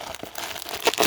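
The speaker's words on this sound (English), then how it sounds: "I'm just going to rip this one open." Paper packaging of a mail package from AliExpress ripped open by hand, giving a short burst of crinkling and tearing close by, brief and alone with no talk.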